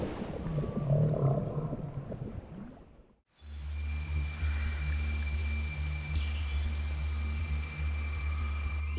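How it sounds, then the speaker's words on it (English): Whales vocalize underwater with low moaning calls and faint higher whistles and sweeps over a hissing ocean background, shifting after a short gap into a steadier, louder, droning tone layered with distant calls. "While the clicks of the whales transmit culture"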